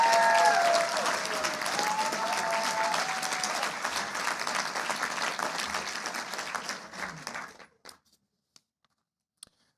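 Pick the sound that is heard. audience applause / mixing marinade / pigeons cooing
audience applause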